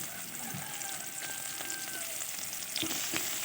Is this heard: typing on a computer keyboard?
no